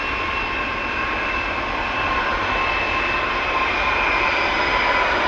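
Steady roar of Boeing 767-300 jet engines with a high whine at Amsterdam Schiphol Airport, constant and fairly loud, no voices.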